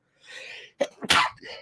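A single close, sharp sneeze with a breathy intake beforehand during a hockey talk show recording, loud burst then fading.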